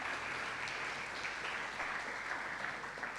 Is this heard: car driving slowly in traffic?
no